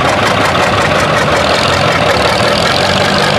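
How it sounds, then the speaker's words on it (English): Engine of a 1960 Allis-Chalmers D14 tractor pulling a 214 plow at a plow day, a loud, dense, unbroken roar heard close and continuous, with no talk. "Mr. Rip Woodard from Hopkinsville, 1960, Allis-Chalmers D14, and a 214 plow behind him"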